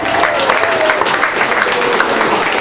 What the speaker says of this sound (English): Let's go ahead and give him a big round of applause.